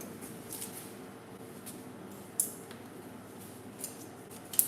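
Faint snips of English cutting scissors trimming hair during a mohawk pixie haircut, a few soft, sparse cuts spaced seconds apart over quiet room tone.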